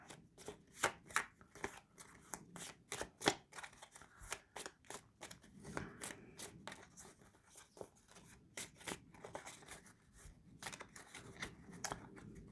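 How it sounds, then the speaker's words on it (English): Pokémon trading cards from a Meowscarada ex deluxe battle deck being shuffled by hand, a run of crisp riffling flicks and slaps in quick uneven bursts, close and clear with no talking. "So let's give it a quick little shuffle. Try and split these cards up a bit."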